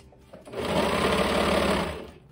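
An electric sewing machine stitches a leotard made from an Under Armour shirt, its motor whirring up into a fast, steady buzz of needle strokes for about a second and a half before slowing to a stop.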